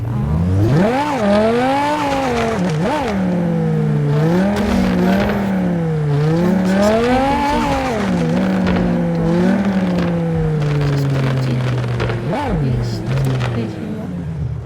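Cars in an online racing video game, engines droning and revving with rising and falling pitch sweeps, loud and continuous throughout, with game sound effects layered over the engine tones.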